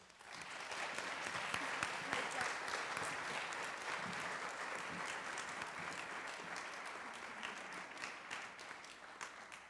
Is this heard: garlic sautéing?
no